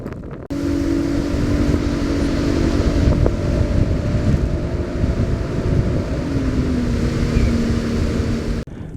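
Boat motoring up a lake on a windy morning, a steady engine drone with a low tonal hum and constant wind buffeting the microphone throughout, no talk.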